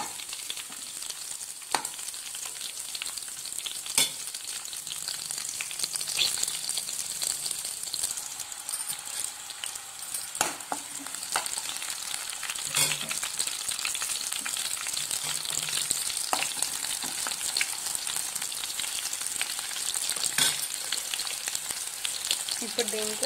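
Green chilies fry in hot oil for egg rice with a steady, dense sizzle throughout, broken by occasional sharp pops and stirring scrapes, with no talking.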